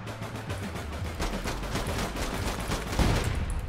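Rapid automatic gunfire from the online shooter game APB Reloaded rattles in a dense, continuous stream of sharp shots, with a louder burst near the end.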